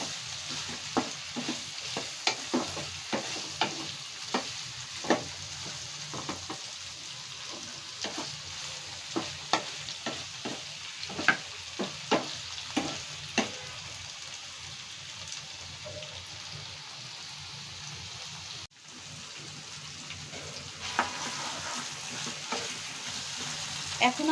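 Bitter gourd curry with mustard stirred in a pan, a quiet sizzle broken by many sharp spoon scrapes and taps against the metal in an irregular rhythm, with a short pause near the end.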